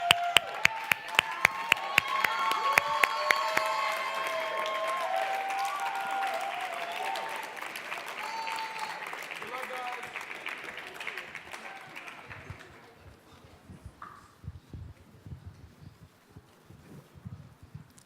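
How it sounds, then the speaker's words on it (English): Audience applauding at a Harlan Community Academy High School event as students come up, steady crowd clapping with a musical tone playing underneath, fading after about twelve seconds into sparse scattered claps and room noise. "Let's give Harlan a big round of applause as they come up."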